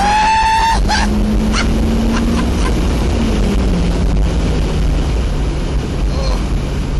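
A car engine under turbo boost on a tuning run roars loud and close, its pitch sliding as the revs change, with heavy wind buffeting and a brief voice at the start.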